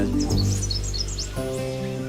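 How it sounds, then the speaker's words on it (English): Birds singing on a coffee farm, a quick run of bright chirps and whistled notes up front, then a sustained tonal hum takes over, near and fairly loud. "What do they do, these birds?"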